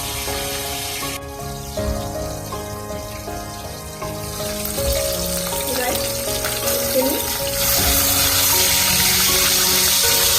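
Two pieces of rohu fish fry in hot oil, a steady crackling sizzle that grows louder and busier, with a few pops and spatters.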